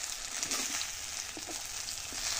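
Fish sizzling as it deep-fries until crisp in a pan over a clay stove, a steady crackle with scattered pops, close and continuous, with no voices.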